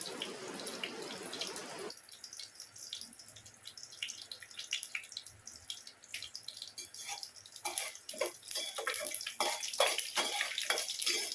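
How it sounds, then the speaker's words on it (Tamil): Mustard seeds and urad dal crackle and pop in hot cooking oil in a pan, a steady stream of sharp, close little spits that thicken toward the end, with no talking. "கடுகு பொரியுது. கடுகு ஃபுல்லாக பொரிய விடுங்க."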